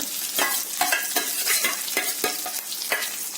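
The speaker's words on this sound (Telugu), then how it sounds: "ముందుగా మనము కళాయి పెట్టుకొని ఈ ఉల్లిపాయ ముక్కలు వేయించుకుందాం" Chopped onions and green chillies fry in a kadai with a steady close sizzle, broken by repeated scraping strokes of a spatula stirring the pan, and no talking.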